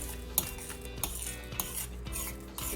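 A thick paste of blood and oatmeal is stirred in a pan with a utensil, giving repeated scraping clinks roughly every half second over a low warming hiss.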